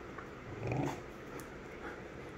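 A German Shepherd and a Great Dane puppy growl while playing, producing low rumbling growls and grumbles close by, peaking briefly, then settling into softer growling and panting.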